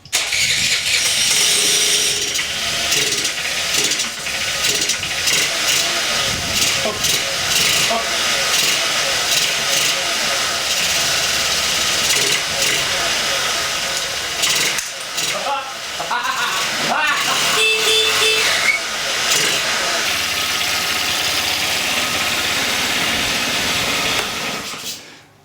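A Honda Elite 80 scooter engine sputters and catches, then runs loud and steady at a rough idle for the rest of the clip, close by.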